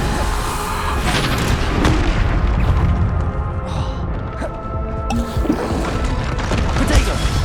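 Bombarda spell blasts in Hogwarts Legacy, loud booming impacts and crashes repeating through a dense, continuous battle mix with a spoken spell call.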